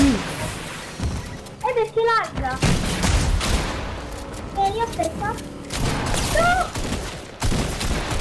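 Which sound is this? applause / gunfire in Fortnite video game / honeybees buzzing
gunfire in Fortnite video game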